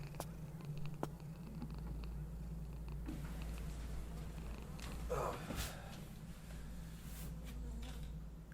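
A cat in an indie horror video game purrs softly, a faint, steady low rumble running throughout with no other clear sounds over it.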